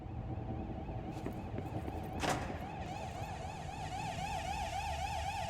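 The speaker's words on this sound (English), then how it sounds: "Should I be concerned about this siren?" Alarm siren wailing inside the game Control, a steady rising and falling tone that holds throughout over a low ambient hum, with a brief thud partway through.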